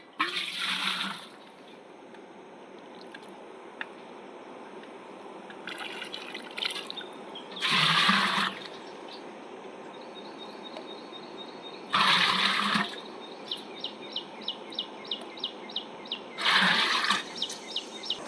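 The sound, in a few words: spring water flowing out of the ground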